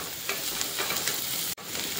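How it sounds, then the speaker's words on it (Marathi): Onion fries in a pan with ginger and garlic cloves, giving a steady close sizzle with faint stirring scrapes and a brief dropout near the end. "कांदा भाजत असताना त्यामध्ये आलं आणि लसूणच्या काही पाकळ्या सुद्धा भाजून घ्यायच्या"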